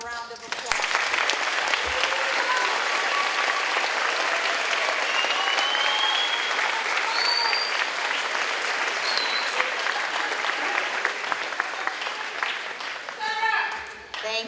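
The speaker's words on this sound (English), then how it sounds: "Please give them a round of applause" Steady applause from a ceremony audience, dense clapping that swells in quickly, holds evenly for over ten seconds with a few whoops and calls, then tapers off near the end.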